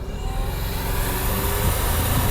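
Toyota Tacoma Trailhunter engine with a steady, close intake roar building under acceleration, a continuous low-heavy drone through the open window.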